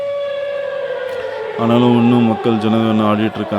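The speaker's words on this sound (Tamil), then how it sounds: "இப்போ ஒரு சைரன் சவுண்ட் கேட்குதுங்களா," A steady, wailing alarm siren sounds at a Kovai Kutralam waterfall near Coimbatore, signalling visitors to leave; it holds alone at first, then continues under someone talking.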